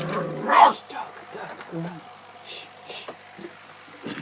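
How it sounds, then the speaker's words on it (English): A dog barks indoors beside a small aquaponics setup with squash seedlings, one loud sharp bark early followed by fainter yips, with a person talking throughout. "Crazy dog."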